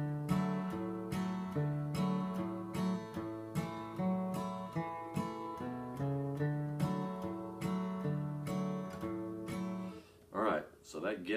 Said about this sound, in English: the walk with the cheat chord would sound like this